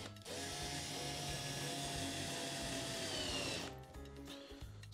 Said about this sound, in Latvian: Tagad skrūvēsim iekšā nākošo skrūvi.